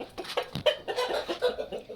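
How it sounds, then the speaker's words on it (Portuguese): Laying hens on a small Brazilian egg farm cluck in a busy, overlapping run of short calls, fairly close and moderately loud, with no talk over them. "separei até as galinhas ali que poderiam estar pondo"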